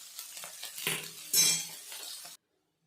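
Onions fry in a pan for mutton saaru while a utensil stirs and scrapes, giving short clinking scrapes and a soft sizzle in close, brief bursts before everything stops.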